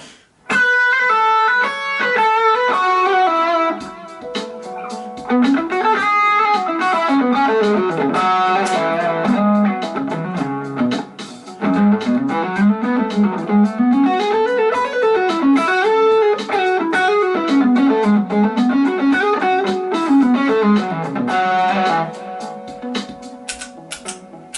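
An electric guitar plays through a Vox Mini Go 10 amp, producing loud, sustained melodic phrases and chords almost without pause, with a slightly effected, distorted edge and no talking over it.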